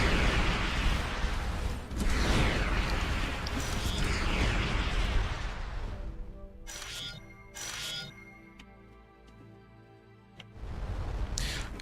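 A spaceship fires lasers and missiles in Starcom Unknown Space, starting with loud rolling blasts and booms that drop into quieter stretches with short pulsing zaps, then a final burst of roaring fire.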